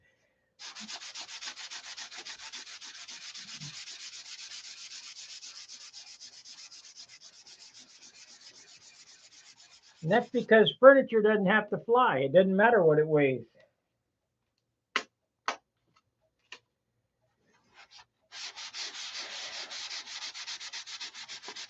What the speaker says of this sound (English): They all hate sanding.